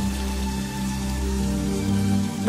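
Steady rain pours in a film scene, a continuous hiss that blends with a sustained music score underneath and no speech.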